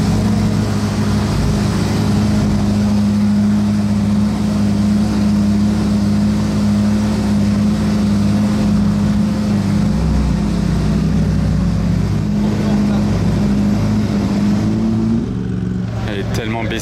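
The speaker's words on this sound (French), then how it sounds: "il vient de redémarrer la SF90" At the Monaco Yacht Show, a Ferrari SF90 runs with a loud, steady engine drone and a deep sustained tone, and it eases off near the end.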